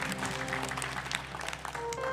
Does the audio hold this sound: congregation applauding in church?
yes